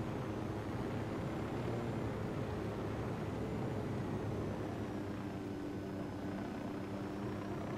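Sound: helicopter in the video game Ghost Recon Wildlands

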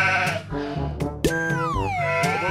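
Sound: sheep bleating

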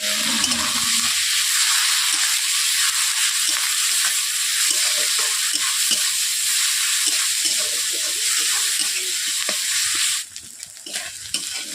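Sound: onion, ginger and garlic paste frying with salt

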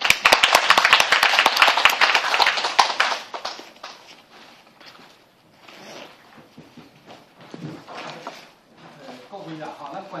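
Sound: audience applause welcoming the speakers

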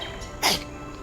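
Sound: a person sneezing

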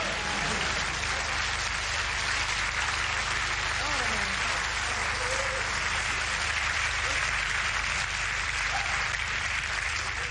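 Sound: audience clapping

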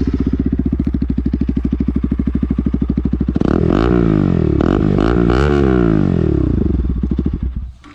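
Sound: Bajaj Pulsar RS200 motorcycle with Akrapovic exhaust

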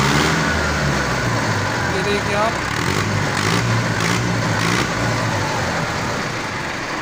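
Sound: Arjun 605 DI tractor engine running

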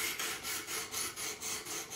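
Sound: knife edge being refined on diamond sharpening stones

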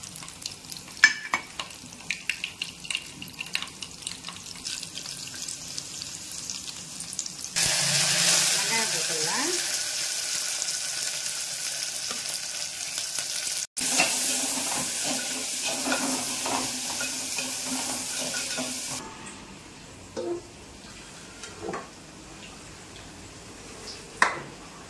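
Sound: mustard seeds and dried red chillies frying in oil

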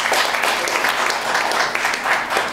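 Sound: audience applause

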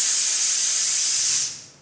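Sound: sizzling breathing exercise for brass players

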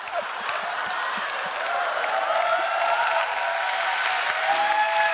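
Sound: audience applause during a talk

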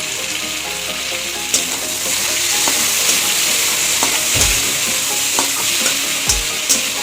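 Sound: prawns frying in oil

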